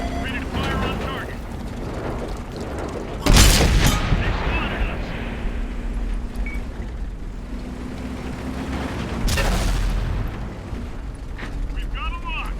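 Tank cannon fire in an Xbox One tank game, two heavy booms about six seconds apart over a constant engine rumble and game sounds, with a voice talking between them.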